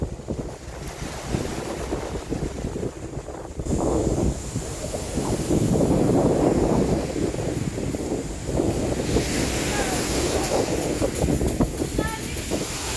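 Sea waves at Puerto Galera wash and rumble steadily against wind buffeting the microphone, with a boat's low drone underneath, loud and continuous throughout.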